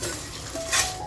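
Whole spices such as cinnamon dry-roasting in a pan for a homemade masala, with a short burst of faint stirring, scraping and light crackle, close and quiet.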